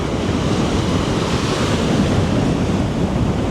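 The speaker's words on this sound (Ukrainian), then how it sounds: "вітряно, море трохи штормить, неспокійне" Stormy sea at a Bulgarian beach resort, with constant roaring surf and strong wind buffeting the microphone, a loud, unbroken wash of noise with no voices.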